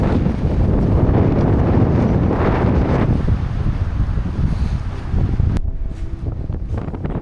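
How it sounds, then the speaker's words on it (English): Strong wind roars across the microphone beside a road in Patagonia, Argentina, a loud continuous rumbling buffet that eases slightly near the end. "Argentina, the wind is crazy."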